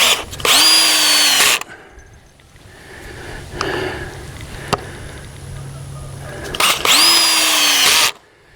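A power drill drives 3-inch screws into a board for a chicken run perch, with two loud, close whirring bursts about a second long each and quiet handling clicks and shuffling between them.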